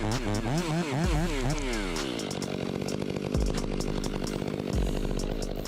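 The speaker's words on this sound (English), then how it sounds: "The West Coast chainsaw completed the job in just a few minutes." A West Coast chainsaw with a giant 7-foot blade and 200cc engine cuts through wood, its loud engine rising and falling in pitch at first, then settling into a steady, continuous bite into the log.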